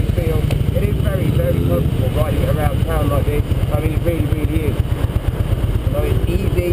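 A Harley-Davidson Cross Bones motorcycle engine idles with a loud, steady, low-pitched rumble close by, while someone talks over it.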